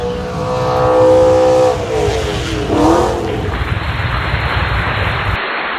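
Car interior while driving, with a loud engine rising and falling as it revs through gears, steady road rumble beneath, close and continuous with no talk.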